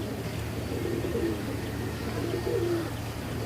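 Pigeons kept as fancy breeds coo softly in two low, rounded phrases, close by over a steady low background hum, with no voices.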